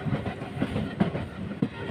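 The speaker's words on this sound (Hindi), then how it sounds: "साइड में लोकोमोटिव जा रहा है, इलेक्ट्रिक लोकोमोटिव WAP-5, ये यहाँ से ट्रैक छोड़ रहा है" An electric WAP-5 locomotive passes at Kollam railway station in India, its wheels giving a regular clickety-clack over a steady rail rumble, fairly close and with no voices.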